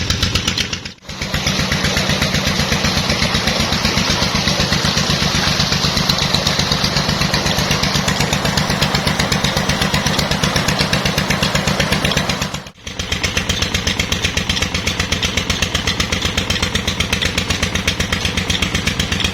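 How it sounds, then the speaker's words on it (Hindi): A tubewell pump engine runs close by with a loud, even, rhythmic chugging, briefly dipping twice before carrying on steadily. "तो ट्यूबवेल चल रहा है"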